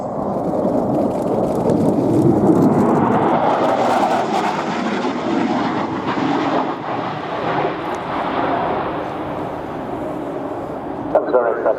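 Polish Air Force Mikoyan MiG-29A jet on a high-speed pass at an air show, a loud sustained roar that swells and then fades, with a commentator talking over it.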